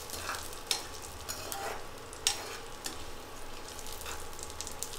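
Spices sizzle and crackle steadily in a hot pan while being fried for a mint and seeraga samba rice dish, with sharp pops and occasional stirring scrapes over a continuous close frying hiss.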